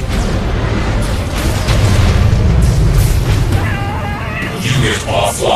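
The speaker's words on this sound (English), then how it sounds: "Missile launched." Missile launch and explosion in the real-time strategy game C&C: Rivals, a loud sustained boom and rumble that fills the clip, with a few bright, crackling bursts near the end.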